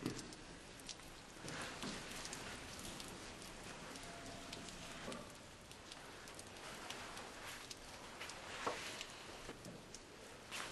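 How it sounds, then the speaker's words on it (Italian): Rain falls steadily on surfaces at an outdoor market stall, a dense patter with scattered sharper drops and taps, fairly faint and continuous. "pioggia oggi"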